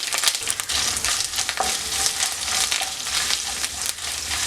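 Coconut pieces frying in oil for a soya chunks roast, a dense, fairly loud sizzle with crisp crackling pops and occasional stirring noises throughout.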